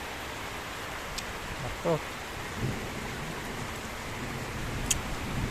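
Heavy rain pouring down during a flood at homes, a dense steady hiss of downpour with a couple of brief clatters and a short spoken word from a nearby voice.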